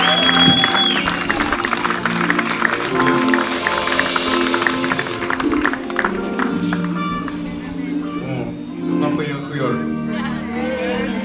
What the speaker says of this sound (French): Est-ce qu'on peut applaudir Brunel très fort?